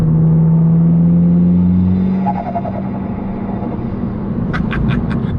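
A modified 225 BHP Abarth 595 with a big turbo drones and revs loudly, then a rapid fluttering chatter of turbo blow-off bursts near the end.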